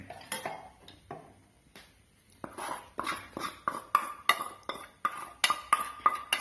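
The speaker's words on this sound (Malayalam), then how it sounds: "ഒരു പാത്രം എടുത്ത് അതിലേക്ക് നമുക്ക് ഈ റവ ഇട്ട് കൊടുക്കാം" Rava (semolina) going into a bowl for a sweet rava appam, heard as a run of sharp, rhythmic clinks of a spoon against the dish, close and fairly loud, with soft rustling between the taps.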